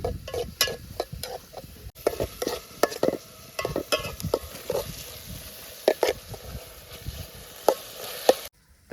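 Onion and tomato being stirred in a pan over an open fire outdoors, giving repeated scraping strokes with a soft sizzle underneath, steady and close with no talking.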